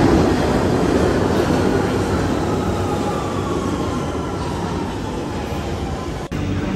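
Loud, steady rumble and rolling roar of a train arriving at a station platform, a dense continuous wash with a faint high whine, close and unbroken by speech.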